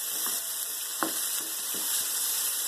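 Vegetables sizzle steadily in a hot pan over a high flame for white sauce pasta, a constant bright frying hiss broken by a few soft stirring clicks.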